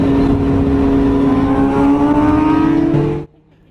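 Suzuki SRAD superbike engine revving loudly and continuously up through its range, nearby and alone, then cutting off abruptly near the end.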